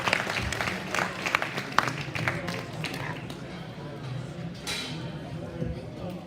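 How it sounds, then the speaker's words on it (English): An audience at a swine show applauds the judge, with scattered clapping and crowd noise over several seconds, moderately loud, with some voices underneath. "let's all give Mr. Ryan Seitz a big round of applause"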